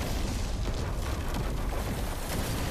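A dense, continuous roaring rumble fills the scene as smoke trails and an explosion hit during the earthquake in the 2018 disaster film The Quake, loud and sustained with no voices.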